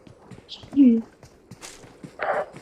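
A few soft, scattered steps under quiet game noise, with a brief voiced sound partway through and some higher-pitched effects.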